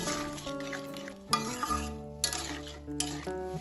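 A prawn and drumstick curry with salt, turmeric and slit green chillies being stirred in a pan, a spoon scraping in a few bursts with background music playing throughout.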